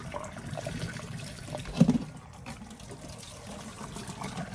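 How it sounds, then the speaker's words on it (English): Water pours and trickles out of a pot in a soft, continuous stream, with a brief louder gurgle partway through. "just drain the water out like that."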